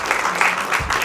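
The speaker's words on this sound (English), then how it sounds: "Give them a round of applause" Spectators at a Bible quiz tournament clapping in a short, dense round of applause, fairly loud and continuous.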